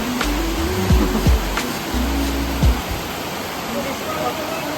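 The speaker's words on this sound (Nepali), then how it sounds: "कति ठुलो पानी परेको बाहिर।" Heavy rain pours outside a farmhouse as a steady, dense hiss that fills the whole clip, with people talking over it.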